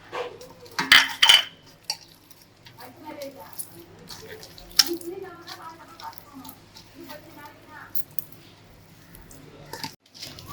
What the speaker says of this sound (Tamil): அடுத்து உருளைக்கிழங்கு வந்து நல்லா பிசைஞ்சு அதில் மிளகாத்தூள் போட்டுக்கலாம்